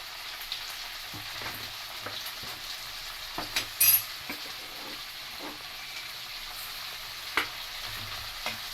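Tomatoes and green chillies fry in a pan for mint chutney, giving a quiet, continuous sizzle dotted with occasional spoon scrapes and a couple of louder clinks, close up and with no talking.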